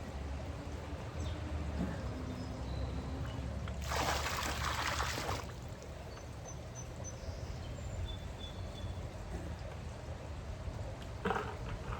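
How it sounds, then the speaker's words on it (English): Water mixed with acid splashes into a new pebble-finish pool in a short burst of pouring lasting over a second, amid quiet outdoor background with faint insects. "And then we add the water to the pool."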